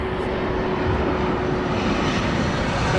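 A Ryanair airliner approaches to land at East Midlands Airport at night, its steady engine roar loud and continuous throughout, with a faint sustained tone riding over the broad rumble and no voices.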